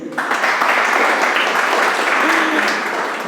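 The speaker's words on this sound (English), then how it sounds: "A huge round of applause for you guys, please." Steady, loud applause from an audience at a professional networking event fills the whole clip, with a dense wash of clapping and a few faint voices underneath.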